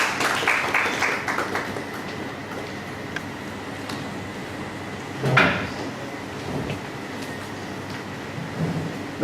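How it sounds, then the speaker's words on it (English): Audience applause in a hall at a chartered accountants' seminar, a sustained patter of clapping at moderate distance that tapers off, with a louder thump partway through. "Let's have a round of applause please."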